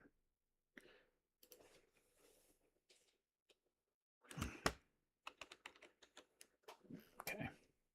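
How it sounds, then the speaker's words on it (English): Bursts of close clicking keystrokes on a computer keyboard come in short irregular clusters separated by quiet gaps, fairly faint overall, with a few soft voice-like sounds in between. "I'll type in DD15"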